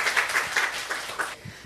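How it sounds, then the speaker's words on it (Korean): Applause from a church congregation during a Sunday service, a burst of clapping lasting under two seconds, fairly even and moderately loud before tapering off. "우리 하나님께 박수 올려드려요"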